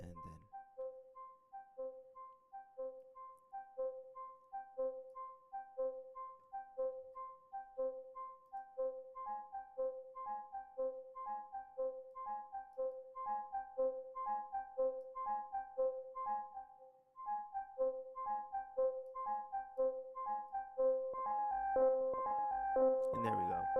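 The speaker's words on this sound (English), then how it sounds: "We got more of a patter sound." Generative ambient synth patch driven by an 8-step sequencer, producing a steady pattering stream of soft repeating plucked notes that swells and thickens near the end.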